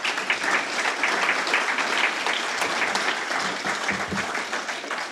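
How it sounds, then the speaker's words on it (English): Steady, full applause fills a room at a Kiwanis Club veterans recognition luncheon, a dense, even wash of many hands clapping at close range without pause. "just go ahead and give her a round of applause."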